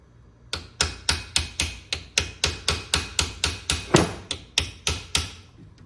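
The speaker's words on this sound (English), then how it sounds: "This is just a flat punch. I'm just using to kind of further peen that rivet over." A steady series of about fifteen sharp, evenly spaced hammer blows on a flat punch peen a rivet over on a 1972 GMC Jimmy vent window, close and loud with no talking.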